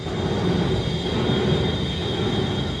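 A jammed chain roller on the chop carriage of a SpaceX launch tower grinds and shakes the structure, making a loud, continuous harsh rumble with a steady high whine on top.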